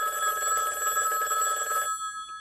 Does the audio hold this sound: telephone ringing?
yes